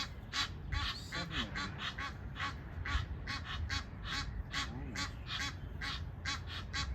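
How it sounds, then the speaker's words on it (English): An Egyptian goose with goslings gives a warning, a rapid run of loud, harsh honks repeated in an uneven rhythm close by, each call sharp and brief, with faint background ambience. "Egyptian goose, just warning us up, I think."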